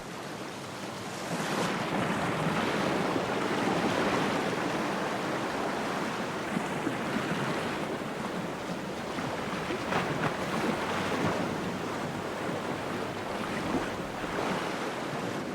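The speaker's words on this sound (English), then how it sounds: "30-foot-high boulders were swept along by the torrential waters." Torrential flood waters in Iceland sweeping huge boulders along, a loud, continuous broadband roar of rushing water that builds after the first second and holds steady throughout, with no voices.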